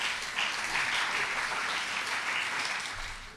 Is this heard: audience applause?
yes